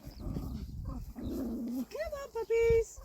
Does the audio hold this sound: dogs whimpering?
yes